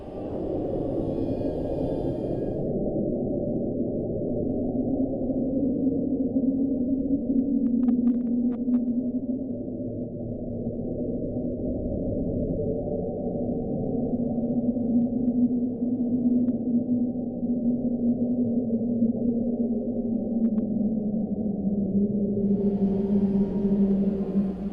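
The unexplained underwater ocean sound called Julia, a long, drawn-out, moan-like tone that slowly glides and wavers in pitch over a low rumbling hum, eerie and continuous for about twenty-five seconds.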